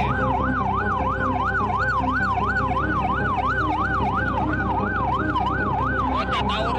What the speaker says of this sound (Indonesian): suara sirene meraung-raung di sekitar Jalan Gunung Sahari Senen